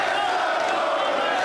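A Chinese crowd at a table tennis world championship semi-final roars steadily in support of a player, a loud, dense wall of massed voices with no break.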